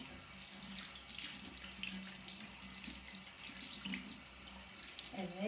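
Running tap water splashes steadily while a foot is washed with a sponge, a soft close wash with one brief spoken word near the start.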